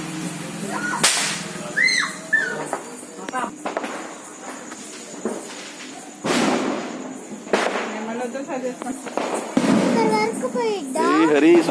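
Diwali firecrackers and sparklers being lit outdoors at night, with sharp bangs and crackling bursts recurring through the scene, loud and close, while children and adults chatter and call out over them.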